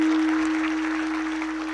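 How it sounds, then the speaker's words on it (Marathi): Audience at a Marathi kirtan in Antarwali Sarati clapping for Manoj Dada, a dense, steady wash of applause with a constant electronic hum running beneath it. "मनोज दादांसाठी एकदा जोरदार टाळ्या वाजवा"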